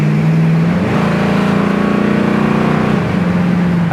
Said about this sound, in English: That kickdown works great.